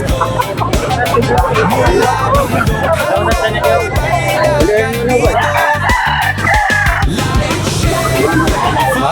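Roosters crow repeatedly over a dense chorus of clucking chickens at a market, with a crowd's chatter and shouts mixed in throughout.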